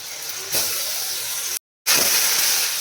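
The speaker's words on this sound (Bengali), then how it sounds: "আদা রসুনের পেস্টটা আমি ভালো করে ভেজে নিলাম" Ginger garlic paste frying in a pan with browned onions for mutton kosha, a steady loud sizzling hiss that swells as it starts, cuts out briefly, then resumes just as strongly.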